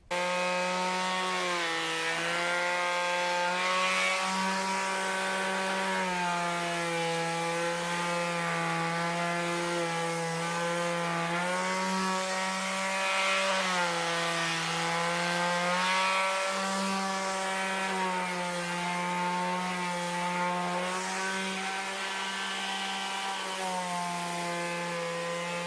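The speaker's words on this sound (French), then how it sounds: "donc là maintenant je vais poncer tout ça, donc là une petite ponceuse suffit" A small electric sander with 120-grit paper works over a wooden beam, its motor holding a steady, close, buzzing whine for the whole stretch with no talk.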